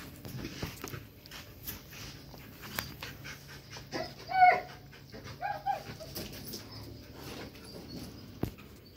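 Dog on a farm panting and giving small whimpers close by, with scattered shuffles and brief bird-like calls in the quiet background, no talking.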